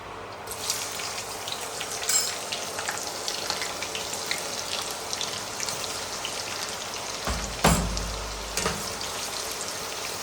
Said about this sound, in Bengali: এবার আমি সবজিটা রান্না করার জন্য এই তেলেই আমি দিয়ে দিব পেঁয়াজ কুচি